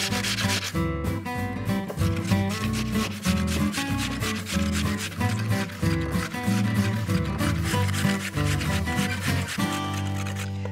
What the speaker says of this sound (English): So 3 medium potatoes, and we'll grate them up.